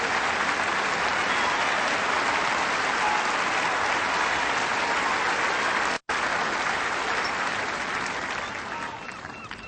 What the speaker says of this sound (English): That applause says it all.